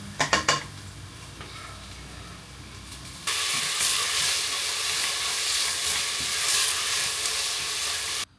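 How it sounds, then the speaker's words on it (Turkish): Onions fry in a pan with a bright, steady sizzle that jumps in loudness after a few clattering utensil knocks, then hisses continuously before cutting off abruptly. "Soğanları kavurdum."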